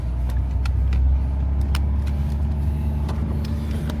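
A 2017 Fiat 124 Spider Lusso on the move with its top up gives a steady engine and road hum from inside the cabin, loud and continuous, with no talk.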